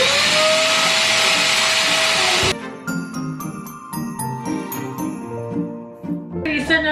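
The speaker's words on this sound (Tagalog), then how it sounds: "Hindi siya ganun ka-powerful na vacuum." A household vacuum cleaner, not an especially powerful one, roars loudly and steadily for about two and a half seconds, then cuts off abruptly, leaving light tinkling chimes and music.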